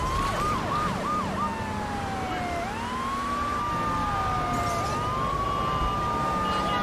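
Police sirens wail and sweep in pitch during a chase in GTA 3 Definitive Edition, a steady loud siren with rising and falling tones over constant engine and traffic noise.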